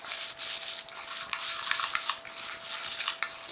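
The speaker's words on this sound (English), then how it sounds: "I'm just going to use this little spoon and we're just going to mix it." A small spoon stirs puffed cereal into a chocolate mixture for chocolate crackles, giving a steady crisp, crackly rustle with a few brief pauses between strokes, heard close and alone.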